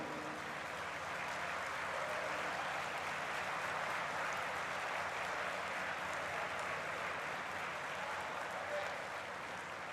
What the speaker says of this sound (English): They will clap for you.